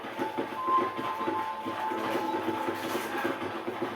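A train at a station in Red Dead Redemption, with a moderate rumbling roll, rhythmic rail clatter and a faint high whistle-like tone running throughout, no talk.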